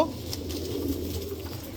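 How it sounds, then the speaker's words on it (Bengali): A male Giri Jel Huma pigeon cooing up close, a low steady throaty coo rolling continuously through the short moment with faint background noise. "এই যে দেখেন গিরিজেল হুমা একটা নর কবুতর"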